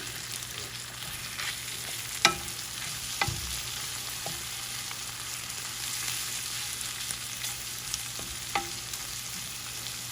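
Food browning in a frying pan gives off a steady soft sizzle, with a few sharp clicks and scrapes of a utensil against the pan standing out now and then.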